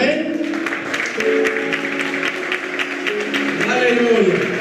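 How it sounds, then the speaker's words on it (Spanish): A church congregation gives applause, steady clapping held under a voice speaking and a sustained musical tone throughout. "La iglesia los bendice con un aplauso"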